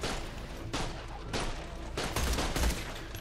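Rapid submachine gun fire in Borderlands: The Pre-Sequel, loud and close, coming in several sustained bursts back to back.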